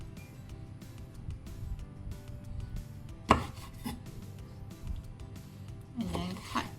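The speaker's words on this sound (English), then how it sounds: "So just chop the ends off." A knife chops the ends off French beans on a cutting board, a series of quick, irregular taps close up with a couple of louder knocks, fairly quiet and without talk.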